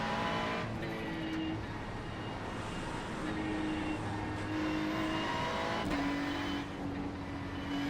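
Race car engine in the iRacing sim, lap one at the Nürburgring, drones and shifts pitch through gears, with faint tire and track noise; steady and moderately loud, no talking.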